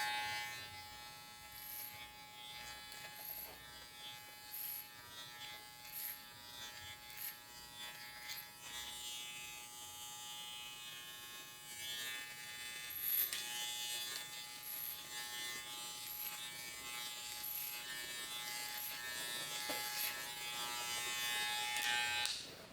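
An electric hair clipper fitted with a 1 guard trims a fade, its continuous buzzing hum running throughout and rising and falling slightly as it moves through the hair.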